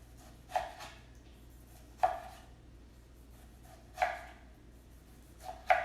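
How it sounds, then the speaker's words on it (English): A knife chops tomatoes on a cutting board in four sharp, evenly spaced strokes roughly two seconds apart, close and clear against a quiet kitchen background. "This is how big I'm chopping the tomatoes, okay?"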